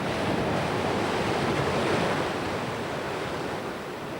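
Rough sea waves roll onto a beach under a strong onshore wind, making a continuous loud roar of surf with wind buffeting the microphone.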